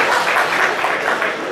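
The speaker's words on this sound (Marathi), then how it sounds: "याबद्दल थोडेसे टाळ्या वाजल्या पाहिजे." An audience at an education lecture breaks into a brief burst of dense, steady applause, loud and close, with no speech over it.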